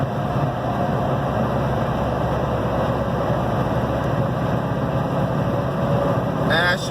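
Steady low engine drone and road rumble inside a car cruising on a highway near the Ohio–West Virginia border, continuous and unvarying, with no one speaking.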